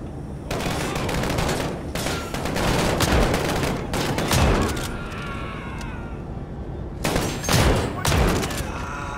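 Heavy automatic gunfire in Call of Duty: Modern Warfare hardcore mode, loud bursts crackling through most of the stretch with short lulls between volleys.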